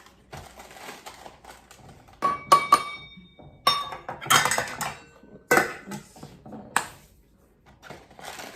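Cupcake batter for Jamaican-style banana pineapple cupcakes is mixed into flour in a big bowl, with irregular clinks and scrapes of a utensil against the bowl.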